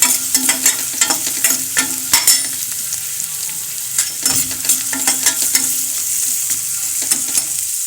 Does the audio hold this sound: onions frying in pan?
yes